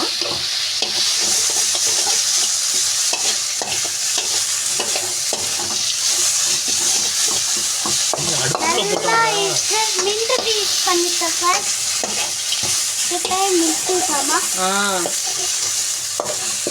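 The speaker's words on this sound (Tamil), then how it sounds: "நல்லா இது வதங்கட்டும்." Mint leaves sautéing in a pan for chutney, a loud steady sizzle with frequent scraping stirs close by, while a voice talks partway through.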